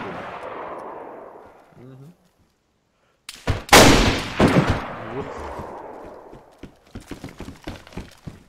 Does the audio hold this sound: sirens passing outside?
no